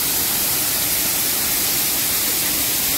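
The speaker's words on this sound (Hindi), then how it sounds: "फाइनली अभी हम लोग आ गए हैं झरना के नीचे साइड में, और ये रहा फ्रेंड्स झरना" A waterfall beside a cave at the Manjhingarh rock garden in Keshkal roars with a steady, dense rush of falling water. It is close and loud, and nobody talks over it.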